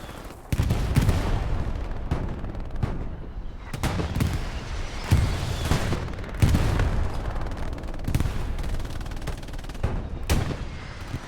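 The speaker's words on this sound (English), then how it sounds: "Much better bombing run." Repeated explosions from a bombing run in a competitive video game match thud and crack in irregular bursts, loud and close, over a steady background rumble.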